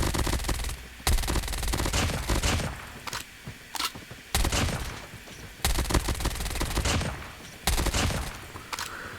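MAC-10 submachine gun fired in a video game, with rapid automatic bursts crackling in several dense strings separated by brief pauses, loud and close.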